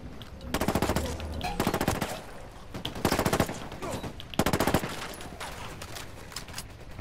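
Automatic gunfire from an assault rifle in Ghost Recon Wildlands, three loud rapid bursts with brief pauses between them and softer ambient game noise underneath.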